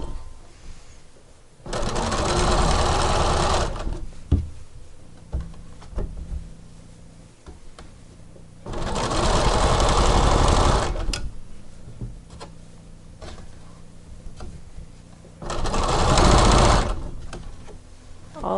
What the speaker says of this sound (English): going to start in the middle, making sure I do not sew both layers.